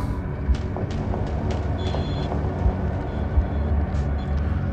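A steady low rumble of a train moving through a subway tunnel, with a few brief metallic clicks and a faint squeal over the drone.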